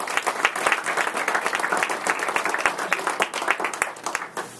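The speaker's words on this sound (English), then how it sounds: "so let's give them a round of applause" A room of people applauds football recruiting coaches at a signing day event, dense continuous clapping close and loud, tapering slightly at the finish.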